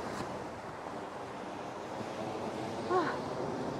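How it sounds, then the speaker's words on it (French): Strong wind buffets the microphone on a sandy beach at Pornichet, a steady roaring hiss with waves blending into the noise, and a faint brief call near the end. "on est à un endroit où on prend carrément le vent"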